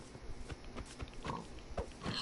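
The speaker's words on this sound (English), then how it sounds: "Look, I'm killing the piggies now," Pig grunts and oinks from a Minecraft pig being killed, several short squeals in quick succession over a busy background of game sounds.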